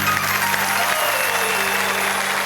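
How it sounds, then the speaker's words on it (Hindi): Welcoming applause from an audience at a Hindi comedic poetry show, a dense, steady wash of clapping over a constant low hum, filling the whole stretch without pause. "हम जोरदार तालियों से स्वागत करें"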